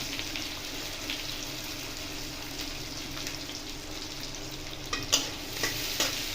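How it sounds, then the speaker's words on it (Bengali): Chopped onions and garlic sizzling in a pan of oil while being stirred, a continuous close frying hiss with scraping spoon strokes that grow sharper and louder near the end. "রসুনটা একটু ভাজা হয়ে গেলে এবার এর মধ্যে আমি কুচনো পেঁয়াজ দিয়ে দিলাম"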